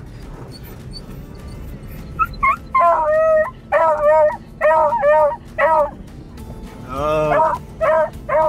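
Two herding dogs bark and yip repeatedly in an outdoor setting with sheep nearby, with loud, close, rhythmic barks and a brief howling whine, while a person briefly exclaims.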